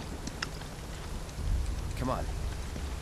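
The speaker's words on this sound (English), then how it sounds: "and of course it rains." Steady rain falls in the video game Final Fantasy VII Rebirth near a Mako reactor, a constant broadband hiss with a slight swell partway through and a brief tonal sound layered on top.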